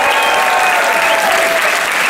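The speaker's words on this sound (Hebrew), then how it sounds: "אולי כפיים!" Loud, dense audience applause at a live stage show, steady clapping filling the whole short stretch with no talk over it.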